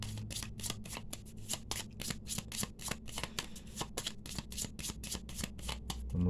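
Tarot cards being shuffled by hand, a steady series of crisp riffling bursts repeating in a quick, even rhythm, close and clear with no talking.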